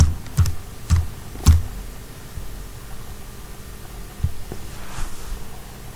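Search text typed on a computer keyboard: a few scattered, fairly loud key taps, close, followed by a quieter stretch with one more tap over a low steady hiss, with no talking.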